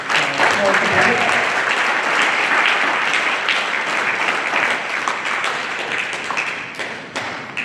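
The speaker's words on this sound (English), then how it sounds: "Another big round of applause to our small debate" Applause from an audience after a law day debate, sustained, dense clapping filling the room, strong at first and slowly easing off toward the end.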